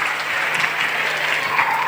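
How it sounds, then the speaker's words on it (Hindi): Hearty audience applause at a Jain pathshala stage program held at a Jain temple, a dense, even roar of clapping from a large crowd that stays loud and steady throughout. "एक बार जोरदार तालियों से इनका स्वागत होना चाहिए।"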